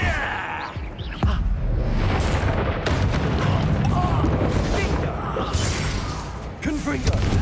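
Fire spell Incendio cast in Hogwarts Legacy on hard mode lets out a loud burst of whooshing, roaring flame with heavy booms and thuds. It continues as a dense, sustained rumble of combat effects.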